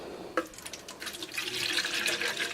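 Water is poured into a plastic watering can indoors, a short splash followed by a rising, steady trickle and gurgle close by, fairly quiet and without talk.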